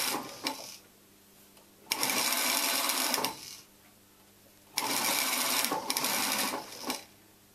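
A domestic sewing machine stitches a seam on a dress in two loud, rapid bursts of whirring needle chatter, separated by quiet pauses.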